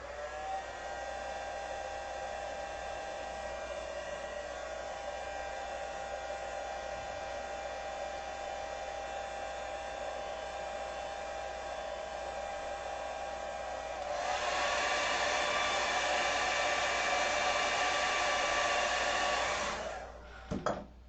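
A hair dryer blowing steadily on a watercolour painting of a daisy, a loud continuous whirring drone that rises to a harsher, higher setting about two-thirds through before cutting off near the end.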